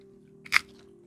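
A single crisp crunch from biting into toffee-coated popcorn, close and brief, rising out of near silence over a faint steady hum.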